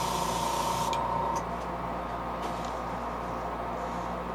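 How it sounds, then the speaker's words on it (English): A steady hiss of spray paint from an aerosol nozzle painting spots on a fishing lure, close up, continuing for several seconds with a slight drop in intensity partway through. "And just spray your spots in."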